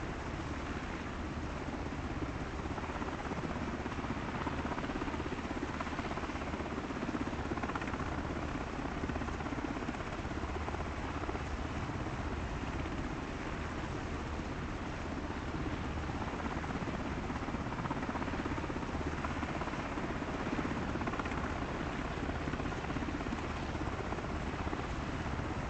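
An Mi-24 helicopter, missing a blade, flies within earshot of a live border camera. Its rotor drone stays constant and evenly loud for the whole stretch, with no speech over it.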